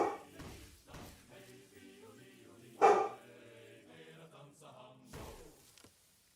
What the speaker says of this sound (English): Just because the other dogs are barking does not mean you have to bark